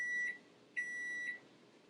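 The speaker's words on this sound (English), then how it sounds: "that is the timer" Kitchen oven timer beeping indoors: a thin high electronic tone sounding in two clear beeps, the second held longer, fairly faint with quiet room noise between.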